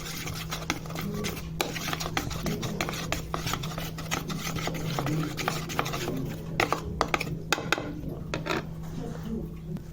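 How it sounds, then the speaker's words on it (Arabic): Spoon stirring a mixture of tomato paste, lemon juice and flour in a dish, close rhythmic scraping and clinking against the plate, continuous with a faint background hum. "بتقلبي الخليط ده كله كده"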